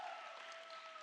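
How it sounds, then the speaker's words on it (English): A church congregation applauds the worship band after an evening service, a faint, even wash of many hands clapping from a distance with no distinct individual claps and no voices on top. "give up a round of applause for Stephen and the band"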